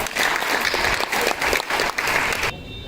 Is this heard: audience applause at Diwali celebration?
yes